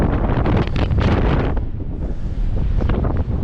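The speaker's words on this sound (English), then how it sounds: "It's windy as hell" Strong wind on a surf beach buffets the microphone with loud, continuous roaring gusts. Crashing waves sit underneath, and no one speaks.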